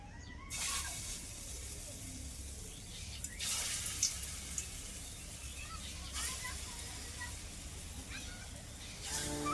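Water is poured from a tap or jug over cut potatoes in a bowl to soak them, giving several separate splashing gushes against quiet kitchen background.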